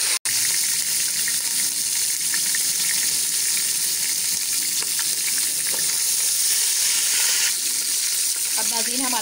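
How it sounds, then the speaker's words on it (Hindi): Mutton frying in a pot for degi aloo gosht gives a loud, steady, close sizzle that continues unbroken throughout, with faint stirring scrapes near the end. "अब इसको मैं फ्राई कर रही हूँ।"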